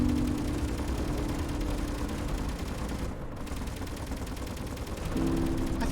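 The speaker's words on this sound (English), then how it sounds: "my guns are shooting it" Sustained automatic gunfire from mounted guns in the Space Engineers survival game, a loud, steady rattling barrage running nearly the whole time with only a brief dip partway through.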